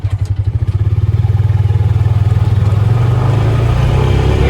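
A Honda Pioneer 500 UTV engine revs up steadily as it shifts up through the gears, a loud, close, throbbing drone that rises and smooths out.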